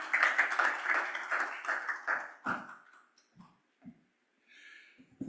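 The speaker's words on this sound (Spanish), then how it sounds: "Y un aplauso para el licenciado" An audience applauds a speaker at a medical symposium on education and digital follow-up in hypertension. Dense, fairly loud clapping fills the first two and a half seconds, then fades into a few scattered claps and quiet room noise.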